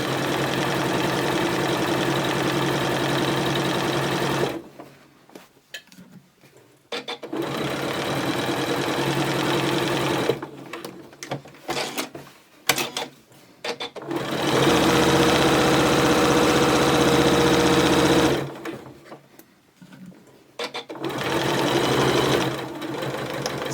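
A sewing machine stitches the seam of a fabric drawstring gift bag, running loud and close with a steady mechanical hum, stopping briefly twice to pivot at corners, then resuming.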